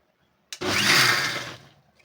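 A mixer grinder jar whirs briefly while grinding spinach (palak), starting abruptly and running about a second at steady loudness before winding down, close and alone.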